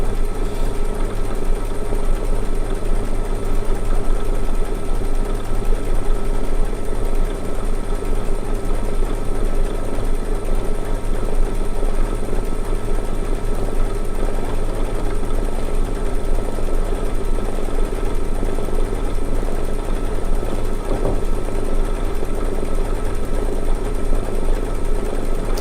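A sewing machine runs continuously as it stitches an interlaced honeycomb outline stitch on quilting fabric, giving a steady, loud mechanical hum and whir without pause, close and with no talk.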